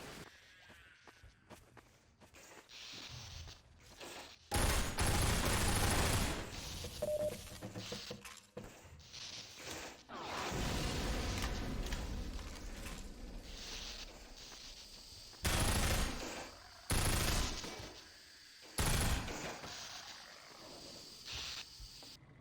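Gunfire in the Half-Life 2 VR video game: several short, loud broadband bursts spaced irregularly, some clustered together, standing out sharply against a quieter background of in-game ambience.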